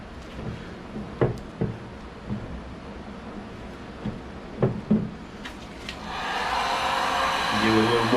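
A heat gun blows a steady, loud airflow at a plastic Ram pickup headlight lens, coming on in the second half after quieter handling knocks and faint talk.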